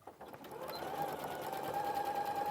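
A sewing machine stitching the shoulder seams of a dress runs up to speed after a short start, then holds a steady, close mechanical whir with a faint high hum riding on it.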